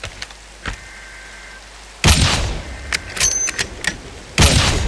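Sniper rifle fire in the horror video game From the Fog: loud sharp gunshot cracks with booming tails, a first shot followed by a burst of impacts and a final heavy blast, close and alone.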